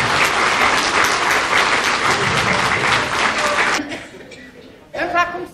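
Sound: audience applause for women on Women's Day

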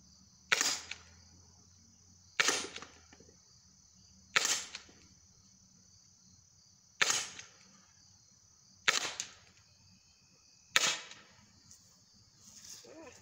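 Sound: Byrna HD launcher shots at a target

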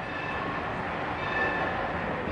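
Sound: train passing by

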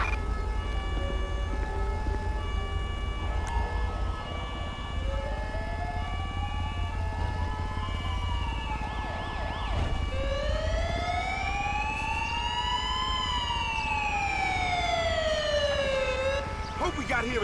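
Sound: ambulance siren in video game GTA 5

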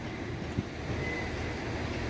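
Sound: passenger train approaching Shrewsbury station

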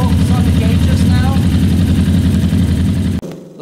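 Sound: motorcycle engine idling with carburetors out of sync

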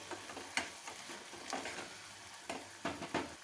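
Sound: cooking and stirring tomatoes with Kashmiri red chilli

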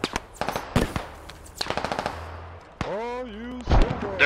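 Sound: machine gun fire from an MG emplacement in the Squad video game

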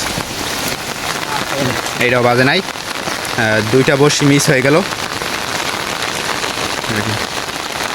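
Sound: rain falling

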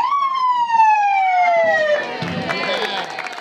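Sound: fire engine siren

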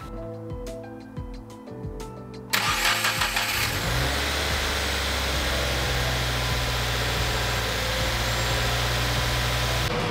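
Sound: Subaru WRX engine starting and idling

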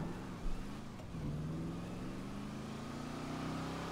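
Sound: car engine driving in the video game GTA 5

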